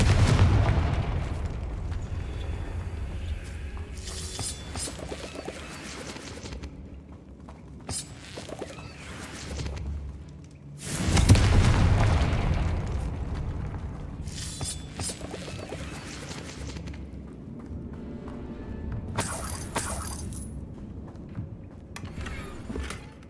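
Confringo fire spell explosions in Hogwarts Legacy: a series of loud booming blasts with crackling tails, the biggest burst near the middle, set among clattering game effects and rumbling background.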